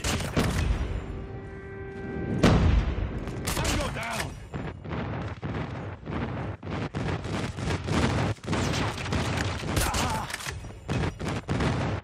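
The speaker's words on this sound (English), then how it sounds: "Friendly airstrike incoming." A friendly airstrike and sustained gunfire in Call of Duty Mobile: a heavy blast early on, then rapid repeated shots and bursts, with game voice callouts mixed in.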